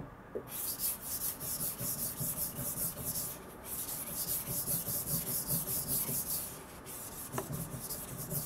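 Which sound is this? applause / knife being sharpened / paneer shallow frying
knife being sharpened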